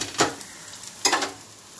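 A moong dal chilla sizzles on a pan after being flipped, with a steady hiss of frying and two short scraping or stirring bursts.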